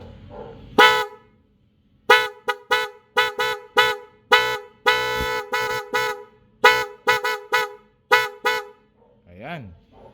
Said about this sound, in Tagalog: parinig ko sa inyo, sound check ng Bosch Evolution Horn